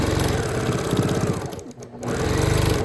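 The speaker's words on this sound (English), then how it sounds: "I really back stitched on that because I really want that to be nice and strong" Sewing machine back stitching fabric for a picnic napkin caddy, a close rapid mechanical chatter that pauses briefly as the direction reverses, then resumes, with no talking.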